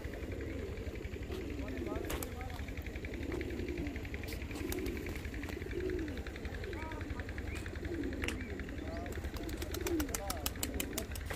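Soft, low cooing of pigeons, including a black pigeon, repeats throughout over a steady low hum, with occasional chirps and faint voices in the background.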